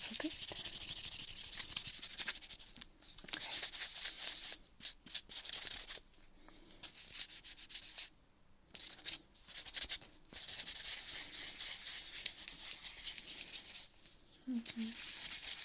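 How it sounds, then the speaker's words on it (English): A polished rock or gemstone is buffed by steady rubbing, a close, continuous dry scraping and brushing with brief pauses, recorded binaurally in an intimate, quiet setting. "I'm just going to do the other side and kind of buff it out a little bit."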